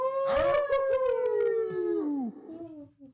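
A man imitates a wolf howl on a podcast: one long voiced howl, loud and close, sliding downward in pitch for about two seconds and then trailing off into a quieter tail.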